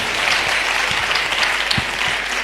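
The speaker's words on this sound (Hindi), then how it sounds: "जोरदार तालियों के साथ" Loud, continuous clapping from a crowd at a Christian worship gathering, a dense steady wash of applause that holds at full strength throughout with no voices rising above it.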